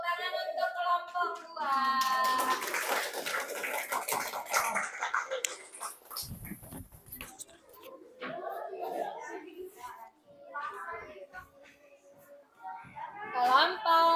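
A classroom of students claps for a student group, a dense burst of applause in the first seconds, with children's chatter and talk heard around it.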